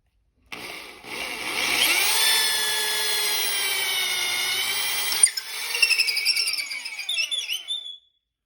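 A squeaky power drill boring a hole whines loudly for several seconds with a high, squealing pitch, then stutters and sputters unevenly before cutting off.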